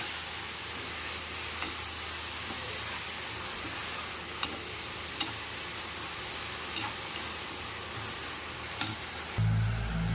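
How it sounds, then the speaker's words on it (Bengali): Banana flower being stirred in a frying pan for a Bengali mocha recipe, a steady soft sizzle with occasional sharp ticks of the spatula against the pan, then a louder low rumble at the very end. "এবার বন্ধুরা কলার মোচাটা দিয়ে ভালো করে নেড়ে নেব"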